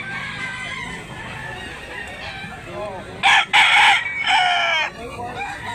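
A Bullstag fighting rooster at a Cebu poultry market crows loudly and close in two or three bursts, with clucking and chicken calls around it.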